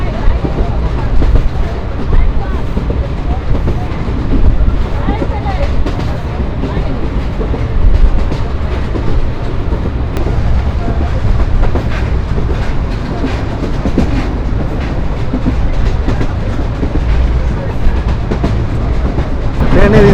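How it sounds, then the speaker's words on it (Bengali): Steady rumble and rhythmic clickety-clack from inside a Chinese-built passenger coach of a Bangladeshi express train travelling at about 55–60 km/h, loud and continuous for the whole stretch with no talk. "ট্রেনের স্পিড খারাপ না, ওই 55-60 এরকম, সর্বোচ্চ একটু দেখলাম 63 পর্যন্ত উঠছিল"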